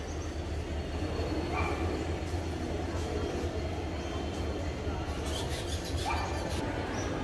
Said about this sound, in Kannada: ಇದು ಕಾಚಿಗುಡ ರೈಲ್ವೆ ಸ್ಟೇಷನ್.